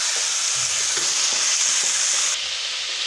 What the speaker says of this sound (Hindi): चिकन को मैंने थोड़ी देर इसमें लहसुन अदरक के पेस्ट में भून लिया